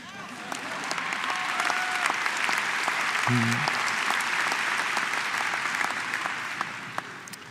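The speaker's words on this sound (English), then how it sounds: "That's worth a clap, I think." Graduation audience at a school of public health commencement applauds steadily, a broad sustained wash of clapping from a large crowd that swells in and fades out over several seconds.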